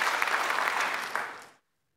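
A church congregation at a Sunday worship service claps together in a dense burst of applause that tapers and stops abruptly after about one and a half seconds, leaving silence.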